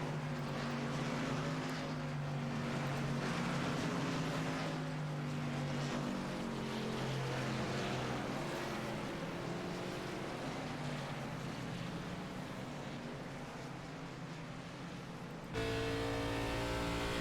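Race cars leave pit lane with a sustained, loud engine drone, several motors layered in a steady roar that shifts slightly in pitch, briefly cut near the end.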